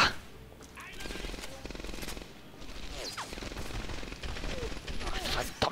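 Rapid bursts of machine gun fire in the WWII shooter Medal of Honor: Airborne, sustained and fairly loud amid other battle noise, with a voice briefly heard under it.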